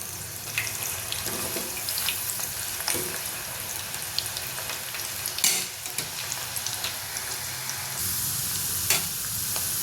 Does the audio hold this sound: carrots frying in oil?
yes